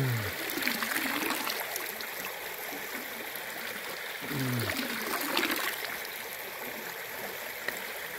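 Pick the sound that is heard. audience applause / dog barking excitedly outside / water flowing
water flowing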